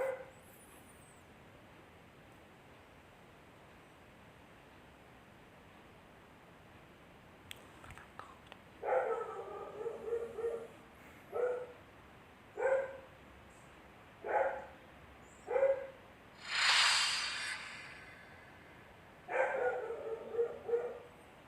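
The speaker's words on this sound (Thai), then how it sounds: "มาเห่าไม่หยุดเลย" A dog barks repeatedly in irregular bursts over the second half, fairly close and loud, with some yips and whimpers, following a quiet stretch of faint background hiss during a mobile shooter game session.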